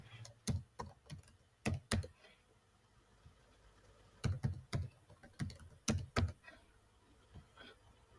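Someone types a password on a computer keyboard in short bursts of crisp, close key clicks, with a quiet pause in the middle before a second flurry of keystrokes.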